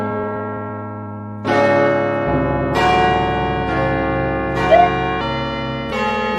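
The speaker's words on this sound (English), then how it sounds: "Well, the bell is malfunctioning" Malfunctioning church bells clang chaotically in overlapping, irregular strikes, loud and resonant with long ringing tails, each new hit piling onto the last.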